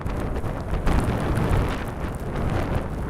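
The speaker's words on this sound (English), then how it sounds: "It's gusting hard." Gale force wind gusting hard near Rekefjord, a loud buffeting roar hitting the microphone in uneven surges throughout, with no voices.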